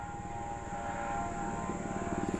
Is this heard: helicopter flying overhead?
yes